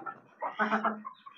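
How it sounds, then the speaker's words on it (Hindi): Chickens and roosters cluck and call as they come out of the coop, a few short bursts of fowl vocalizing close by and moderately faint. "तो सारे मुर्गे बाहर आ गए"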